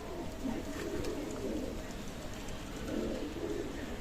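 Pakistani Teddy pigeons coo softly in low, rolling phrases, repeated a few times against a faint background hum.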